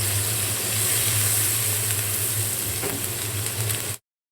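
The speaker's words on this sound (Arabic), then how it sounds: "هنزل ببصله صغيره مكسوره عليها رشه فلفل اسود" A small chopped onion with a sprinkle of black pepper fries in caramelized sugar, giving a steady, close sizzle that crackles evenly over a low hum for about four seconds and then cuts off abruptly.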